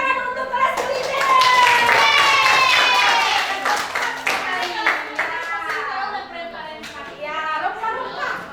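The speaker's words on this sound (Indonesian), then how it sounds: "untuk beri tepuk tangan untuk kelas kuliner" A culinary class of children claps together in a classroom, a dense burst of hand claps with young voices chattering and calling out over it throughout.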